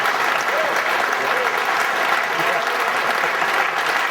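A Billiard Congress of America Hall of Fame induction audience claps and cheers, a dense, steady wash of applause from a large crowd filling the whole stretch at even loudness.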